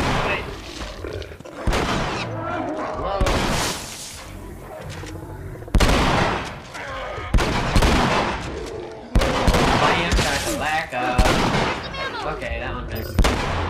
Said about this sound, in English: Shoot this mother trucker.